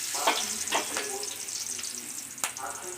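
Mustard seeds sputter and crackle in hot oil sprinkled with a little salt, giving a faint continuous sizzle with a few sharp pops and crackles scattered across it.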